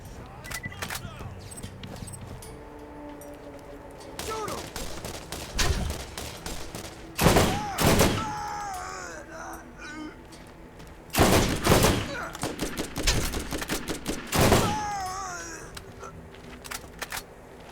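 Bursts of gunfire crackle in the Borderlands video game, short rapid volleys separated by quieter stretches with game effects, while someone talks at times.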